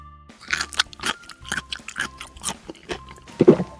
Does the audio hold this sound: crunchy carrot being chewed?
yes